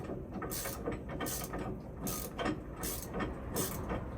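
Ratchet wrench tightening bolts on a bus axle, a close, steady series of rapid ratcheting clicks in about five regular strokes, each a short burst of pawl clatter, with no talk.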